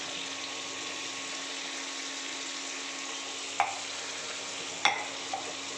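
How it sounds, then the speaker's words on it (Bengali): A spoonful of turmeric goes into a frying fish gravy for shonkor (stingray) curry, a steady quiet sizzle with a couple of sharp spoon taps against the pan. "এবার দেব এক চামচ হলুদ,"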